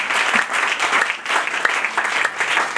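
A church congregation applauding during a sermon, dense sustained clapping from many hands in an indoor space, loud and even throughout with no speech over it.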